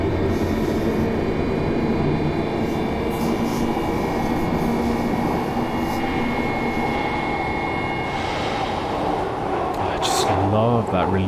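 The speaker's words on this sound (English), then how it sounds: "That release valve sound, it's just... And the flanging" Glasgow Subway train in Train Simulator Classic, a steady loud rumble of running wheels and motor throughout, with a sharp hiss of a release valve and squealing flange noise near the end; a voice talks over it.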